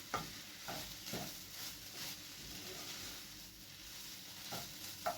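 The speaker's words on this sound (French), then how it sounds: "Je viens touiller un peu ça, je veux pas que ça crame." Food stirred in a hot pan, a scraping stroke repeating roughly every second over a low, constant sizzle.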